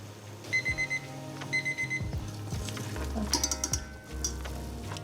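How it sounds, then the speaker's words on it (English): A kitchen timer rings in quick bursts of four electronic beeps, repeated several times beside a pot of cooking tapioca pearls, with soft clatter and bubbling underneath. "Now set your timer for 20 minutes."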